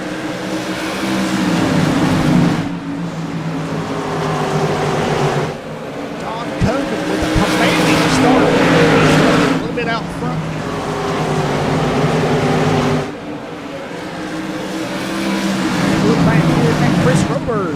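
A pack of SK Modified race cars roars around Oxford Plains oval in a race, loud engines swelling and fading in repeated waves as they lap, under continuous commentary.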